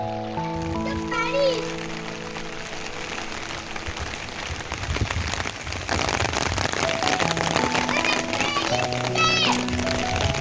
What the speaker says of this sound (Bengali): সুইমিং পুলে বৃষ্টি শুরু হয়েছে